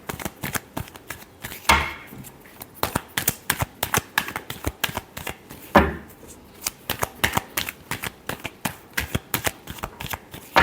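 Tarot cards are shuffled by hand in a steady series of crisp riffling slaps and taps, with two louder bursts of riffling, close and clear with no talk over them.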